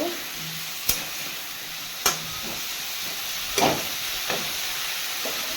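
Whole spices and bay leaf sizzling in hot oil in a pan, a constant soft hiss broken by several sharp pops and taps of a utensil against the pan.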